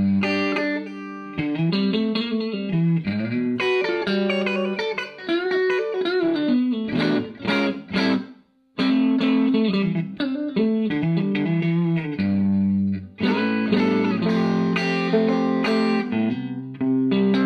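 Electric guitar played through a Carr Skylark amp into an attenuator, with moderate volume, treble slightly up, middle down and no reverb, giving mildly overdriven picked lines and chords that run continuously with one brief gap.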